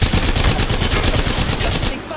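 Rapid automatic gunfire in Apex Legends aimed at the player, a loud, steady stream of close shots in quick rhythmic succession lasting the whole moment.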